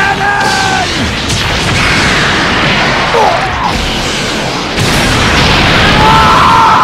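A Special Beam Cannon attack from a Dragon Ball video game bursts out as loud booming crashes and energy blasts, with rising and falling electronic whines and a sharp impact near the end.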